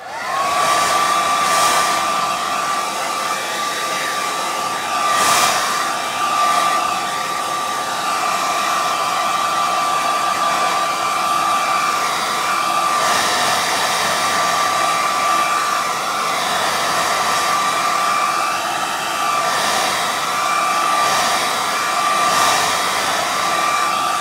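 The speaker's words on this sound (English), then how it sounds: "So I'm going to give this a quick blast with the hairdryer" A hairdryer blows continuously on a freshly painted distressed home decor accessory, a steady, loud whirring rush with a constant motor whine that barely changes throughout.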